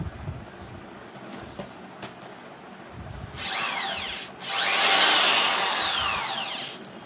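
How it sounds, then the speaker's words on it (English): An electric drill machine is switched on twice, whining up to speed for about a second, pausing briefly, then running again louder for roughly two seconds before spinning down, after quiet handling sounds. "let me just show that it is in working condition"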